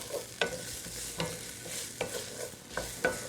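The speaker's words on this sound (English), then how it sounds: "Give it a bit of a stir around." Garlic frying in a pan for a shepherdess pie being stirred, a low sizzle broken by about five sharp utensil scrapes spaced at roughly regular intervals, close and quiet.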